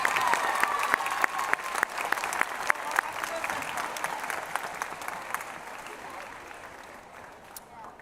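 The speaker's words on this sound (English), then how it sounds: "How about another round of applause for our student speakers?" Audience clapping for student speakers at a school Moving Up Day ceremony, a steady round of applause with sharp individual claps, fairly loud at first and slowly tapering off.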